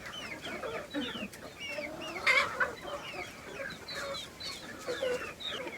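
Backyard hens cluck and chirp in a loose, overlapping scatter of short calls at moderate distance, with faint background noise and no talking.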